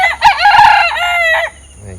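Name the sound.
rooster crowing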